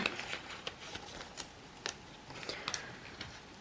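A piece of cardboard box is torn off in a series of quick, crackly rips and scrapes, close and fairly quiet.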